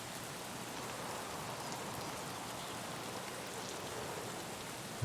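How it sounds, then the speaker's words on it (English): Steady rainfall in the video game Escape from Tarkov, a soft, even wash of drops hitting surfaces that holds constant and faint throughout, with no talking. "louder rain"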